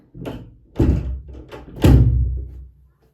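A door is pushed shut indoors, giving several heavy close thunks and bumps across a few seconds, the last one the loudest, with no talking.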